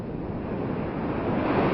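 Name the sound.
big surf waves at Makaha Point beach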